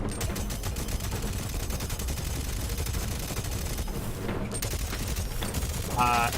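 Sustained automatic gunfire from a Borderlands 3 firefight on Mayhem 11 in Pandora's Box, with rapid dense bursts running throughout at steady loudness and a talking voice underneath, ending in a brief rising mechanical whine.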